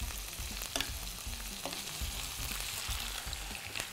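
Beef tenderloin searing in a hot pan and being turned side to side, a continuous dense sizzle with a few sharper pops and knocks as it is flipped.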